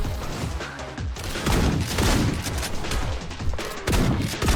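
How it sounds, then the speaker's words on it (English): Shotgun fire in a video game combat scene with parries and melee, a loud, dense barrage of overlapping blasts and booms running almost continuously, with heavier bursts recurring every second or so. "looks like this shotgun applies fire then"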